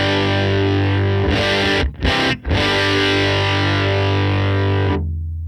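Cranked amp distortion from a Tone Master Pro guitar processor: a thick, saturated guitar chord rings loud and close, briefly choked twice, then restruck and left to sustain before cutting off.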